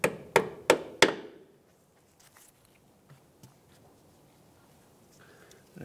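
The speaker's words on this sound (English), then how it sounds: "we're actually just going to use a small little hammer and tap the clip into place." A small hammer taps a clip onto a new front brake hose on a 2003-2011 Honda Element, giving four sharp, evenly spaced metallic knocks in quick succession, then near silence with faint handling noises.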